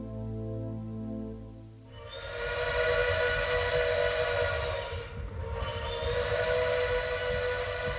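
A train's whistle sounds in a long sustained blast, pauses briefly, then sounds again over a steady rumbling background.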